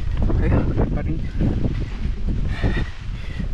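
Steady broadband wind rushes and buffets close to the microphone on a rainy trek along a muddy path, with gusty swells throughout and faint voices underneath.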